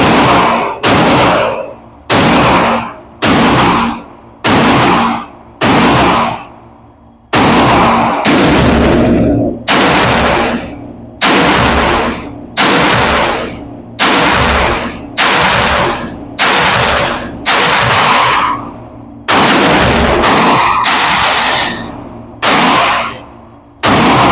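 Rifle shots from a GQ Armory Paladin 6mm ARC carbon rifle, loud and close, firing about eighteen sharp reports in irregular spacing, some paired in quick succession, each with a short decaying echo.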